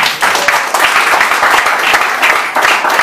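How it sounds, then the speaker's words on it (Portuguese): Church congregation applauding in praise, loud and continuous clapping from a crowd filling the whole stretch, close and energetic with no talking over it. "Que as palmas louvam ao Senhor."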